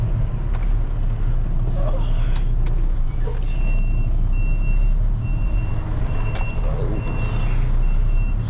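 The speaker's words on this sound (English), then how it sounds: "I'm gonna back in over here by this truck, so I'm not blocking the way" A truck backing in on a street beside another truck while hauling a GEHL TH12-55 telehandler on a Landoll trailer: steady reversing beeps repeat over a loud, rumbling diesel idle, with a few faint clanks.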